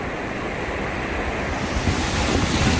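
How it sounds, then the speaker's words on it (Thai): Sea waves surging steadily at the Pranburi river mouth in Thailand, a continuous loud wash of surf with wind buffeting the microphone and no voices. "นี่คือทะเล ปากน้ำปราณนะคะ ก็คือ เป็นปากอ่าวของปราณ"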